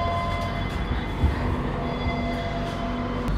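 Steady low rumble and hum inside the rear carriage of the KA Parahyangan train at Bandung station, an even, continuous rail-car drone with faint tonal whine and no talk.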